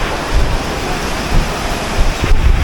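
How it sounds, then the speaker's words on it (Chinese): Heavy rain pours and strong wind roars at an outdoor street stall, a loud, dense, continuous wash of noise with gusts buffeting the microphone and no voices. "现在都还没到8点，但是下大雨，吹大风啊！"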